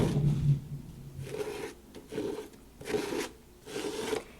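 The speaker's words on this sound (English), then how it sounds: "And I am just spreading it on like you would spread on icing." A palette knife spreads Ranger texture paste in four or five soft, rasping scrapes at an even rhythm, close and quiet, with no voices.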